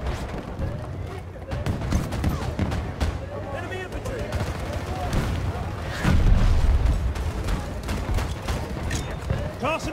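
Explosive charge detonating amid heavy gunfire in Battlefield 2042 Portal with Bad Company 2 content, a loud boom near the six-second mark over constant rifle fire and shouted team chatter.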